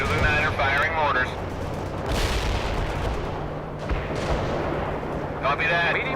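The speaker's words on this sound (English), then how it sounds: "Zulu 9 are firing mortars." Mortar and artillery fire in the World in Conflict video game, heavy booming blasts and rumbling explosions under a constant battle din, with game radio voices talking over it.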